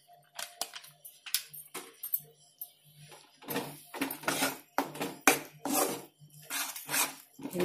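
A spoon stirs a milk powder mixture in a pan, giving a run of close, uneven scraping and clinking strokes that grow busier and louder partway through.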